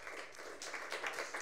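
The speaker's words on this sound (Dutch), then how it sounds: "Mag ik een groot applaus?" Faint applause for the members of a jazz quartet: a quiet, steady patter of scattered hand claps from a small audience, heard alone at a distance.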